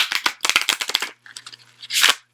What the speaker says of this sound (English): I know some of you like to see how they shuffle, so I'm just going to do that for you guys.